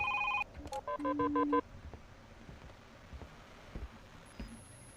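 A telephone in The Grudge horror video game gives a short burst of electronic ring tones, a few stacked beeps played quickly at the start. Low background noise and faint rumbling follow once the ringing stops.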